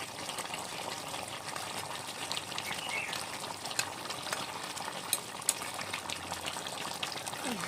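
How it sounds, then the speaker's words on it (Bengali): Fish head kalia masala made with katla fish bubbles in a pan, a steady soft seething and popping with a few sharper pops standing out, close and moderate in level with no voices. "ভালো করে ফুটবে, তাহলে মশলাটা নরম হবে।"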